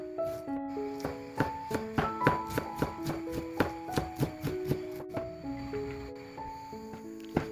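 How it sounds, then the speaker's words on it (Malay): A knife chops a large onion on a cutting board, about twenty sharp, fairly evenly spaced taps close up and moderately loud, with a faint low hum and clatter in the background. "Kak Syah potong dan cincangkan"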